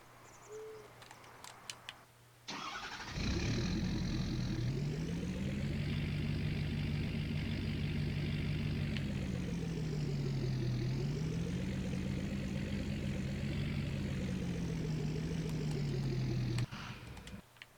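Trucks (2022 TLX 3500 pickups) driven onto a trailer at a shop, a close engine drone that rises and falls in pitch as it revs and creeps along, starting abruptly after a quiet moment and cutting off near the end.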